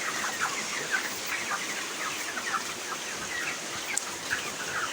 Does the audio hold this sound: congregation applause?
no